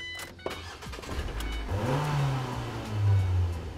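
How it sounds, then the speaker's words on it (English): A car engine turns over and settles into a running idle, rising briefly in a rev before holding a low, steady rumble nearby. "start up your car and let it run for about 20 to 30 minutes"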